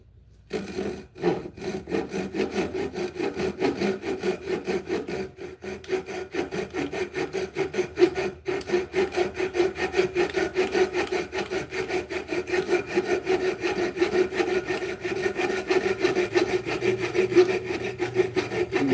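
A hand saw cuts a wooden tenon in rhythmic back-and-forth rasping strokes, close and steady throughout, with a few short pauses between strokes.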